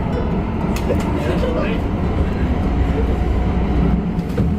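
Low, steady rumble of a metro train in motion, heard from inside the carriage, with faint murmuring voices under the drone.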